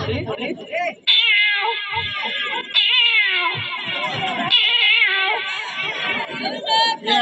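A voice imitates cats meowing, drawn-out wavering yowls repeated close up, with short gaps between the calls.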